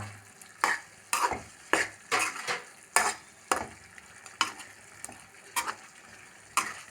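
Repeated scraping strokes of a spoon stirring food in a frying pan, about a dozen irregular scrapes over a soft sizzle, close by and clear.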